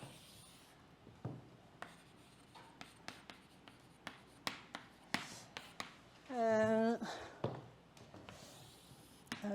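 Writing on a board during a mathematics lecture gives a string of crisp taps and scratchy strokes spaced irregularly, near and fairly quiet, with a brief voiced sound breaking in midway.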